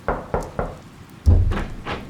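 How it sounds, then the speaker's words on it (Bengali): Three evenly spaced knocks on a door, then a heavier thud followed by two more knocks, close and distinct with no talking. "রাত 9টায় তার ঘরের দরজায় ঠক ঠক শব্দ হলো"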